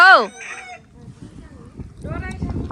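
A chicken's loud crow-like cackle opens, followed by scattered clucking and farmyard noise at a picnic spot in Gran Canaria, Spain, with a second squawking burst near the end.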